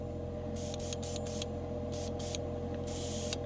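Several short bursts of spraying from a Harbor Freight airbrush, sharp hissing puffs separated by pauses over a low steady hum of its compressor.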